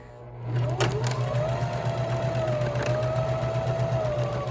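A domestic sewing machine runs steadily at slow speed, stitching forward through fabric along a seam with a backstitch at the edge: a continuous close mechanical hum with a rhythmic needle chatter throughout, no talk.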